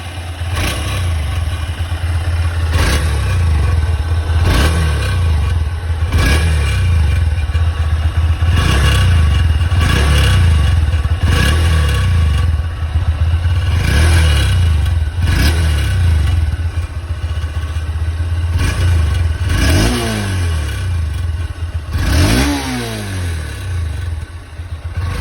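A Honda CB200 motorcycle engine idles with a steady low drone while a metallic rattle, like a pot clanking, repeats at regular intervals throughout, loud and close with no talking.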